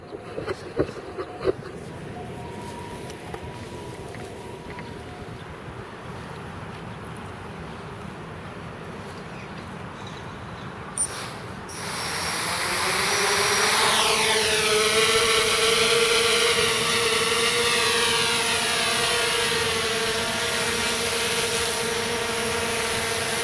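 An Armattan CF 258 quadcopter on RCX 2208-1800kv motors throttles up after quiet handling clicks, then a loud high motor whine rises and sweeps in pitch as it flies, close to the listener.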